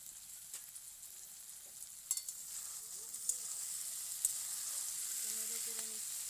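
Small fish drop into hot oil and set off a steady, close frying sizzle with a few sharp crackles and pops, while a faint voice murmurs briefly underneath.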